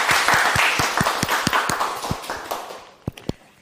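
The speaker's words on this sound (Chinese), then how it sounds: "我们先把掌声送给梁老师。" A small audience at an academic lecture on large language models for biology claps for the speaker: a few seconds of fairly sparse, close hand clapping that thins out to several isolated claps near the end.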